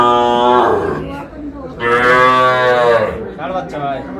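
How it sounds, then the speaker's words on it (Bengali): A young bull calf at a cattle market in Jessore, Bangladesh moos loudly and close by in two long, drawn-out calls, with faint crowd voices behind. "ষাঁড় বাচ্চা।"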